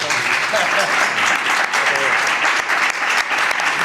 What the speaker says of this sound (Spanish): Pues darle un aplauso al menos, ¿no?